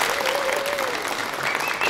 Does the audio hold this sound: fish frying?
no